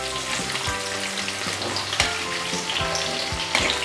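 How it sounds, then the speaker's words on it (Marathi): Three small onions sizzle and fry in a pan for Chinese-style noodles, a steady close crackling hiss broken by a few louder bursts and clinks as they are stirred. "आता यात मी कांदा टाकते."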